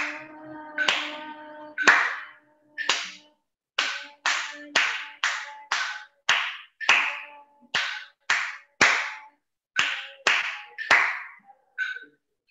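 Hands clap along to a metronome, about seventeen crisp claps in a steady beat that falters briefly, with a faint metronome tone and no talking.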